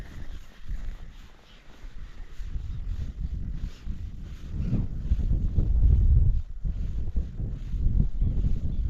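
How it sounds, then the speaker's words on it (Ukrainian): Wind buffets the microphone in rumbling gusts that swell and fade, loud and close, with a faint rustle behind, during a fishing trip. "Вітер посилюється."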